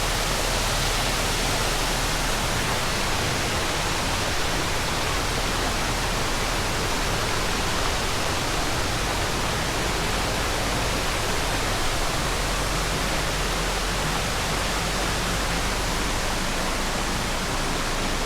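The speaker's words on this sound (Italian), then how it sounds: "Ecco qua le cascate del Caglieron." The Caglieron waterfalls roar as a dense, even rush of falling water, loud and unbroken from start to finish with no other sounds standing out.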